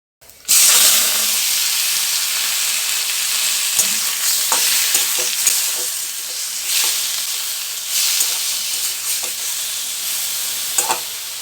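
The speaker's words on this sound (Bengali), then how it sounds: "মাংসটা উল্টে পাল্টে হালকা করে ভেজে নিতে হবে।" Chicken is stir-fried with onions in a wok, producing a loud, continuous hissing sizzle from a sudden start, punctuated by spatula scrapes and clinks, with no one talking.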